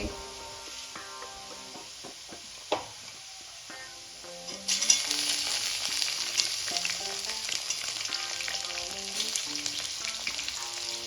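Onion and tomato fry in a pan for Kashmiri chicken masala, a steady sizzle that grows louder and brighter midway, with scraping stirs and a clink, while music plays underneath.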